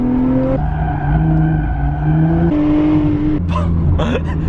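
A Lotus Evora sports car accelerates hard through its gears, the engine note climbing steadily, dropping at each shift, then rising again, loud and close from inside the car.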